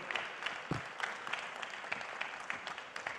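A business audience at a meeting of French entrepreneurs applauds Patrice Talon, President of Benin, with sustained, fairly faint clapping from a large room.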